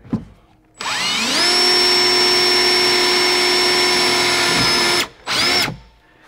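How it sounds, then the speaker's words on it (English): A power drill bores a pilot hole into steel behind a truck's interior panel, a loud, steady whine for about four seconds, then a brief second burst after a short pause. "So now we'll drill a little pilot hole."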